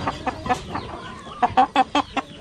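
A young rooster with a hen-like face clucks in short, separate calls, a loose scatter at first and then a quicker run of louder clucks, close and alone.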